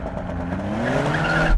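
BMW M8, Porsche Panamera GT and Mercedes-AMG GT engines roar together at the launch of a drag race, the tone climbing steadily as the cars accelerate, loud and continuous with no voices.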